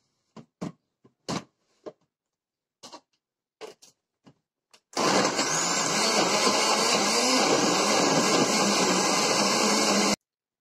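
A few clicks and taps of ingredients going into a kitchen blender, then the motor roars on steady and loud for about five seconds while mixing carrot cake batter, and it stops abruptly.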